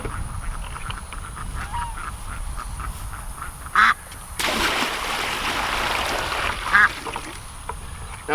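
Khaki Campbell ducks quack outdoors on a farm, a couple of short calls standing out over steady background hiss and rustle, with a louder broad burst of noise in between.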